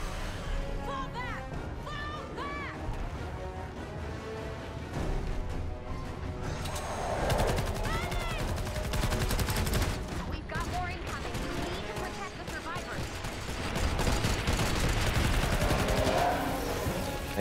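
Traps and turrets fire at husks in Fortnite, a dense, continuous stream of rapid gunfire and impacts over game music, with the volume holding steady throughout.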